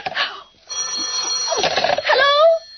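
An old-time radio drama telephone bell rings in short bursts through narrow, tinny broadcast sound, with a voice speaking between the rings.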